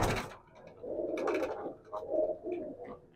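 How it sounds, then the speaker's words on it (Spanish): Racing pigeon cooing in a Matanzas loft, soft repeated low coos in a gentle rhythm, close by and fairly quiet, with no talking over them. "Esta es otra paloma."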